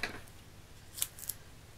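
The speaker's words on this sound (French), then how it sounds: "Alors, hop, je vais couper ça." Paper being cut for a handmade birthday card, with a couple of quick, crisp snips close by against a quiet background.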